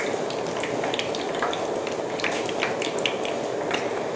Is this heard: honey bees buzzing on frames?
no